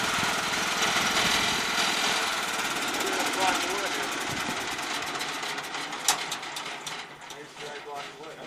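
A Wood-Mizer sawmill engine runs steadily nearby, a loud continuous mechanical drone with rattling texture through most of the stretch, easing somewhat toward the end.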